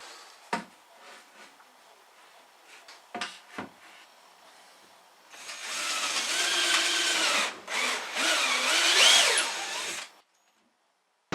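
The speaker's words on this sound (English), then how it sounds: "drilling through wood with the carpet below" Power drill boring through a wooden kitchen tabletop over carpet: a few short taps and bumps, then a sustained grinding whine of several seconds with a brief dip, loud and close, ending in silence.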